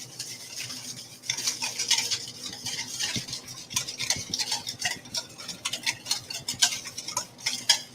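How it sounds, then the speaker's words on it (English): A spoon scrapes and clinks repeatedly against a bowl while ice cream mix with sugar is stirred, giving an uneven run of close, light ticking strokes with no talk. "so give it a bit more stirring"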